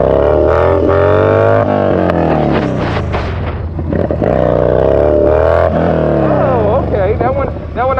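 A Yamaha Bolt motorcycle revving hard through a wheelie, the engine note rising and falling loudly and close while a voice talks over it.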